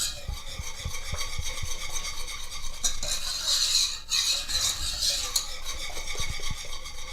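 Chocolate cream pie filling is stirred in a saucepan, with repeated scraping and rubbing of a utensil against the pan and light metallic taps, close and steady, with no talking.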